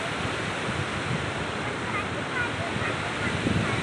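Sea surf rolls onto Guhagar beach on the Konkan coast, a steady broad wash of breaking waves with wind rushing across the microphone, continuous and fairly loud throughout.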